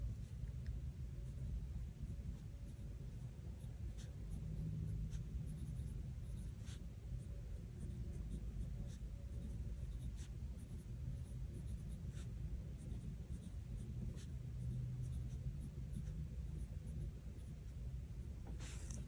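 A pen writes steadily in a Hobonichi Cousin planner, a soft continuous scratch of nib on thin paper, close and quiet over a low background rumble, with no talk.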